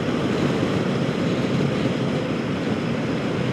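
A 2025 Royal Enfield Himalayan motorcycle cruises along a road toward the mountains, producing a constant, loud, broadband rush of wind and engine drone with no breaks or speech.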